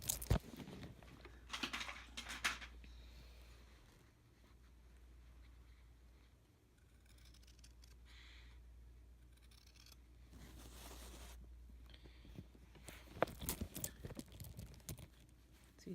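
Scissors trim quilt binding fabric in quiet bursts of crisp snipping, first a few cuts early on, then a faster run of snips near the end, with a calm pause between.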